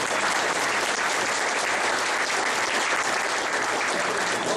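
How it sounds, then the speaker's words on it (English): Dense, sustained applause from a political event audience, loud and continuous for several seconds with no talk over it. "how do we put a round of applause together for the Canadian Taxpayers Federation"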